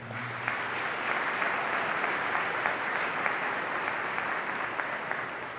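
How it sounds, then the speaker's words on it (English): Steady applause from a sizable crowd at a high school graduation ceremony, dense clapping that holds at an even level throughout with no voices on top. "Let's get another round of applause for all of the parents"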